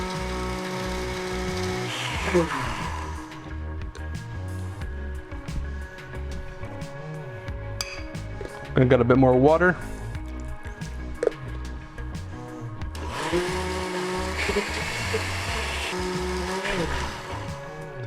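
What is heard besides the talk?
blender blending pesto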